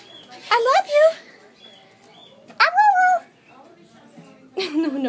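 A husky puppy yips and howls in three short, rising bursts separated by pauses, close and fairly loud.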